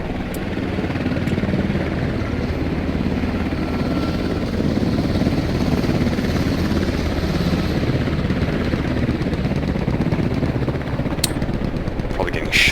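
A military helicopter in the Squad shooter game drones with a loud, steady rotor and engine roar, joined near the end by scattered gunfire cracks and a brief voice.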